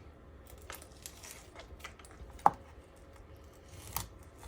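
A knife cuts fat from raw poultry in a home kitchen: soft, quiet slicing and crinkling at close range, with one sharp snip in the middle and a few faint scrapes around it.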